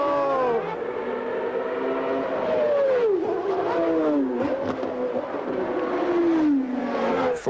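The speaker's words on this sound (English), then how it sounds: "Ayrton Senna, there's his car." Ayrton Senna's Formula One race car at the Australian Grand Prix, its engine screaming high and loud in repeated rising-and-falling sweeps as it shifts through gears, with race cars passing close by.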